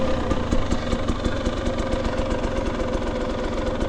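A two-stroke dirt bike engine idles steadily and close by at Kennedy Meadows, a fast, even throbbing that runs without a break and sounds slightly rough, as if the bike is struggling to stay running.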